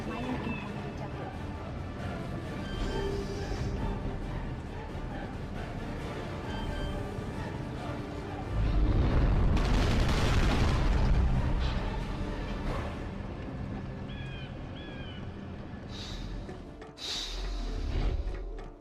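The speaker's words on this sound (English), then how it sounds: "Armed with an assault rifle and grenade launcher to suit, Mirik quickly dispatches of the remaining enemy units with ease." Explosions and gunfire in the Carrier Command: Gaea Mission video game, with an assault rifle and grenade launcher firing against enemy units; a loud, dense burst of blasts swells mid-clip over a steady bed of game music and effects, with a voice present.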